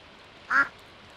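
A single short duck quack, clear and fairly close, standing alone against a quiet background.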